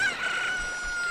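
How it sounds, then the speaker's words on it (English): Chicken hatching from an egg in the video game Zelda: Ocarina of Time: a short, shrill crowing call from the chick, loud and continuous, with no talk. "Oh! A chicken hatched from the egg."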